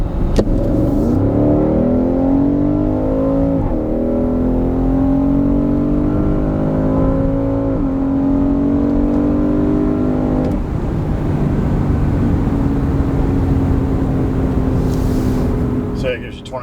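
Porsche Cayenne Turbo engine pulling hard at full power, a loud, steady roar that climbs in pitch through gear changes over about sixteen seconds, heard close and without talk.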